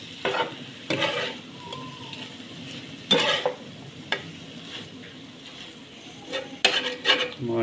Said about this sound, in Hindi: टिक्का मसाला शामिल कर देंगे। अच्छे तरीके से इसको मिक्स करेंगे।